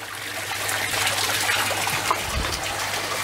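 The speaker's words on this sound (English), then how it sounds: "I'm going to pull the stand pipe out of this bed here and let all that water flow out and fill it up" Water drains out of an aquaponics grow bed once its stand pipe is pulled, making a steady, close rush and trickle that stays constant throughout.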